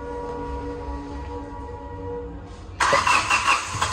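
A car engine that was hydrolocked after being submerged in water is cranked and catches suddenly, jumping from a low idle-like drone into a loud, rough, revving roar partway through.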